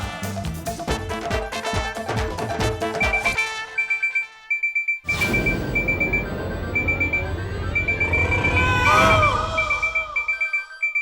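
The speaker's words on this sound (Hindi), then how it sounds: "ये अलार्म ही बज रहा है" An alarm clock rings with repeated high electronic beeps in short bursts, loud and close, over busy music and background noise.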